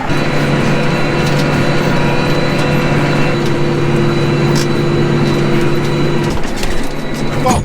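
A heavy tractor engine drones steadily at close range with a constant low hum, then the tone drops off near the end.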